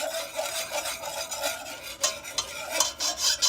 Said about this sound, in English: See how I hear that keep scraping up against the bottom of this bowl here